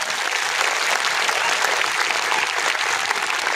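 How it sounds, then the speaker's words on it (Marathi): A large crowd claps loudly and steadily in honour of Babasaheb Ambedkar at a public gathering, a dense, continuous wash of applause with no break for the full few seconds. "बाबासाहेब आंबेडकरांसाठी इथं जोरदार टाळ्या वाजा."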